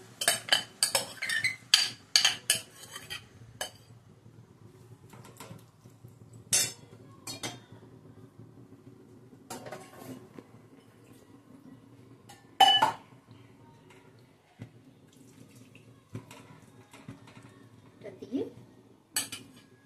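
A metal lid clanks onto a pan of fish paturi cooking in oil, amid sparse cutlery and utensil clinks, with brief quiet speech.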